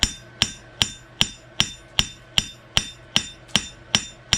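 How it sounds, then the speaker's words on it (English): Rhythmic hammer blows on hot steel while forging a horseshoe, about a dozen sharp metallic strikes at a steady even pace, each ringing briefly before the next, close and clear with no talking. "You don't have to go high with your hammer."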